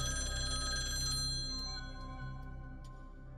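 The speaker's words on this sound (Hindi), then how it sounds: "तुम्हारी सास का फोन आ गया।" A telephone bell rings steadily in a domestic drama scene, a continuous bright ringing tone sustained throughout with no talk over it, slightly fading toward the end.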